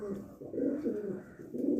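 Pet pigeons, among them a white-eyed bird, coo softly in a short series of low, rounded calls, close by and fairly quiet, with no talking over them.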